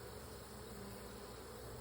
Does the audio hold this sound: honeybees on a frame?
yes